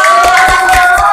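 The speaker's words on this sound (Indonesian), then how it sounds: "Kita kasih tepuk tangan untuk kelompok 3." A classroom of students claps for group 3, a brief burst of fairly loud, quick rhythmic hand claps from a small group.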